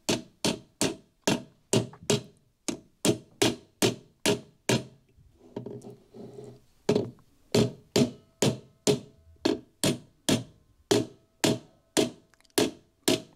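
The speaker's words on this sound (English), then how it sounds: "I have a feeling I can tap that into place with a hammer." A hammer taps a birch dowel into a slot during glass bedding of an M1A or Garand rifle stock: about thirty sharp, evenly spaced knocks, clear and close, with a short pause midway.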